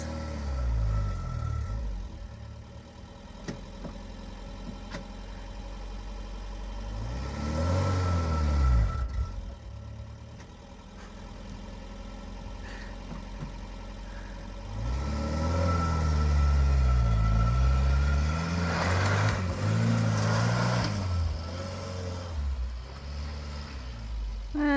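A campervan stuck on a Portugal farm revs its engine hard in repeated surges as the wheels spin, the roar rising and falling in long waves with a low rumble throughout.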